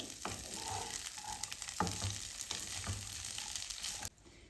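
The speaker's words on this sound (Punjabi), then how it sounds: "ਸਿੰਗਰੇ ਨੂੰ ਆਪਾਂ ਮੀਡੀਅਮ ਸੇਕ ਤੇ 3 ਮਿੰਟ ਲਈ ਫਰਾਈ ਕਰ ਲਏ" Water chestnuts frying on medium heat in a pan, a steady close sizzle with occasional stirring clatters, ending abruptly near the close; no talking.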